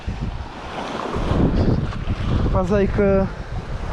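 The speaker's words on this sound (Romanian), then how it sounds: "bate puțin vântul cam tare" Strong gusty wind off Lake Sevan in Armenia buffets the microphone in a low roar, with a person speaking briefly partway through.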